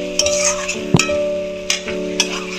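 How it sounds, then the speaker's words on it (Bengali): Masala with paneer stir-fried in a pan for shahi paneer: a spoon scrapes and clinks against the pan a few times over a steady sizzle, close up, with no talking. "ওই মধ্যে ভালো করে কিন্তু মশলাটা কষিয়ে নিতে হবে"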